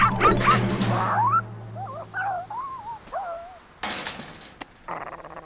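A cartoon dog in a pirate adventure show yips and whimpers in a series of short rising and falling calls after a loud burst of noise, with sharp bangs and clatter following near the end.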